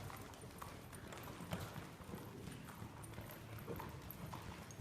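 Horse hooves clip-clop steadily around an arena during a riding lesson, a continuous rhythmic thudding at moderate distance over a faint background hum, with no talk.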